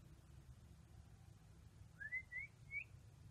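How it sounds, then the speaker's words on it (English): A small bird gives three quick, high chirps in a row, faint and fairly distant, against a quiet background. "It's just a little bird."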